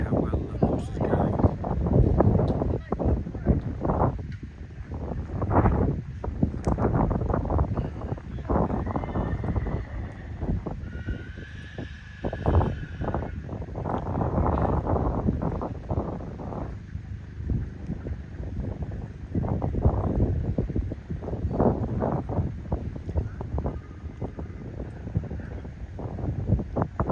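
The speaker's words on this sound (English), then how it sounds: "As you can see with the wind, with the trees, I mean, it's very windy today" Strong gusty wind roars into the microphone at a horse racing track, with a rumbling, buffeting rush through trees that continues throughout and drowns out most other sound.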